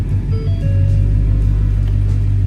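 A 2015 Mustang GT V8 starting and settling into a loud, close, steady low rumbling idle.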